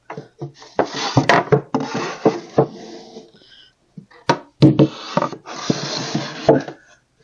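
Homemade wooden drawer slides are pushed in and out, giving bursts of dry wood-on-wood rubbing and scraping with knocks and pauses between strokes, close and fairly loud.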